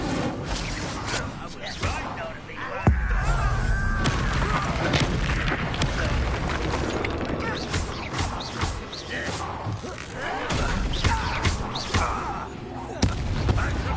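A video game fire spell erupts amid a dense, continuous battle din, with a sharp burst near the start followed by sustained crackling, rumbling booms and clashing effects, while a voice talks over the mix.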